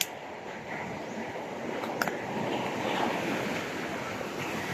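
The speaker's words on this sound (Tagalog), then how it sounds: "malakas ang alon" Strong ocean waves surge and break continuously at close range, a steady broadband roar of surf mixed with gusty wind buffeting the microphone, with no talking.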